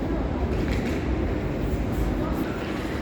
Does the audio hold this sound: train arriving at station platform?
yes